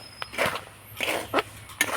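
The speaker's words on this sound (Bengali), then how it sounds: "এই দেখুন কত সুন্দরভাবে ছোলাটা ফুটতে শুরু করে দিয়েছে" Chickpeas dry roasting in a pan pop and crackle in a few sharp, scattered bursts, fairly faint and close, with quiet pauses between them.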